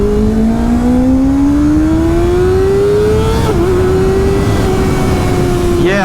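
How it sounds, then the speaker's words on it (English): A Kawasaki ZX6R with a LeoVince LV-10 exhaust revs up in a long, loud rising sweep, drops briefly, holds a high pitch, then lets off with a burst of pops and crackles at the end. "little pops and crackles from this exhaust"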